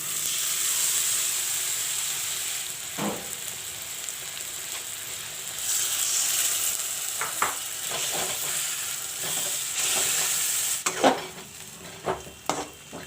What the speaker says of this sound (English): I will let the tomatoes fry a little bit.